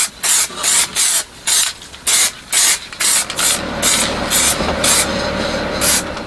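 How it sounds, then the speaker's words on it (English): Grey spray paint goes onto model animal heads in about a dozen short, loud, hissing bursts with brief gaps, then settles into a longer continuous spray. "give them a coat of grey first, just to get a coat of paint on them"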